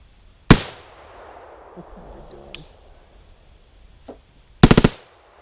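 Close, loud automatic bursts from a machine gun at an outdoor shooting range: a single sharp report, a faint pop, then a fast rattling burst of four or five shots, with quiet gaps between.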